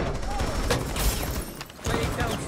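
Teammates' gunfire in a video game, fast rattling bursts of shots filling most of the moment, pausing briefly before another volley resumes.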